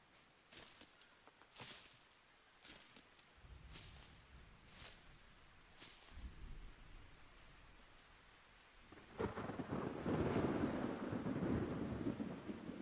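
Thunderstorm in the Hunt: Showdown 1896 game: several sharp thunder cracks and low rumbles ring out over a soft rainy hiss, then steady, heavier rain swells in and keeps falling.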